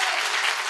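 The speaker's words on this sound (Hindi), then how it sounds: "दिल से ताली बजाइए, जोरदार ताली बजाइए।" A live audience at a Hindi-language gathering claps loudly for honored guests, a dense, steady wall of applause filling the whole moment with no voices above it.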